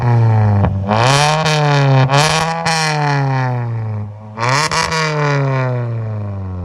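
A car engine revs up and down repeatedly, loud and close, rising in pitch with each throttle blip before settling back to a rumbling idle.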